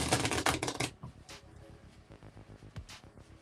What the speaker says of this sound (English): So what I'm going to do is shuffle my deck first